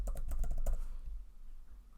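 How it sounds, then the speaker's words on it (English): Rapid burst of keystrokes on a computer keyboard during spreadsheet work, about half a dozen close, crisp clicks in quick succession, then quiet room tone, no talking. "And if I type here performance,"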